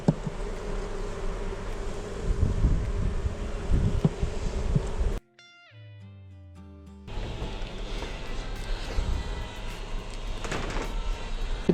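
Honeybees swarming around beehives make a dense, steady buzzing hum close by, broken for about two seconds by an unrelated musical jingle before the buzzing returns at full strength.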